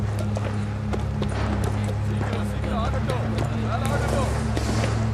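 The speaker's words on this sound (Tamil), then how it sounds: "இது ரொம்ப அழகான குதிரை." Horse hooves clip-clopping at a steady pace, mid-distance, under a constant low hum and scattered background voices.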